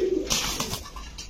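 A pair of Lal Patti pigeons at a pigeon shop gives a short throaty coo close by, followed by soft rustling and a brief second murmur.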